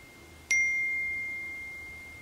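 A cellphone gives a single bright notification ding that rings on and fades slowly over faint background hiss, in a quiet room before dawn.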